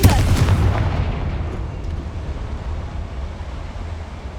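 A Confringo explosive spell from Hogwarts Legacy lands with a single deep, booming blast that hits hard at the start and then rumbles and decays over several seconds.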